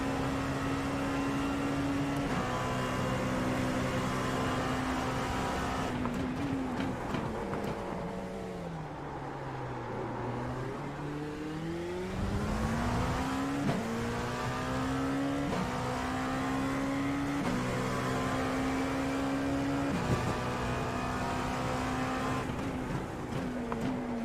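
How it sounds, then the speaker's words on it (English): A racing car engine in a simulator game drones steadily at high revs, pitch dipping as it slows and then climbing back up through gear changes, with no voices over it. "How's the engine noise now, guys?"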